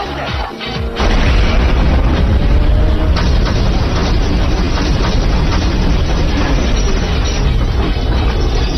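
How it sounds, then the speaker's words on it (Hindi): A blast inside a building goes off with a sudden deep boom, then a loud, sustained roaring rumble of debris and noise that fills the rest of the stretch without letup. "हमारी बिल्डिंग में एक धमाका हुआ है सर"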